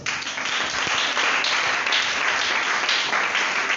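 A church congregation applauding and acclaiming: dense, steady clapping from a large crowd with cheering voices mixed in, loud and sustained throughout without pause.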